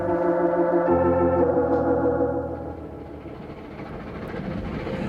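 A train running, used as an audio drama sound effect: a loud rumbling, chugging rail sound with layered tones that fades somewhat after the midpoint and continues as a lower rolling noise.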